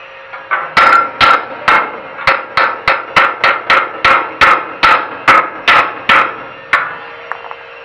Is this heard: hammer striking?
yes